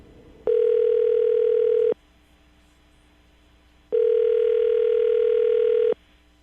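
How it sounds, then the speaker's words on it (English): Telephone tone on a call placed from a radio show: two long, steady electronic tones, each about one and a half seconds, separated by a pause of about two seconds, loud and clear over a quiet line. "I'm going to dial the phone number right now"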